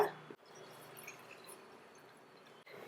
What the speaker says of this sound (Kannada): ಒಂದು ಕಪ್ ನೀರು ಹಾಕೋಣ ಈಗ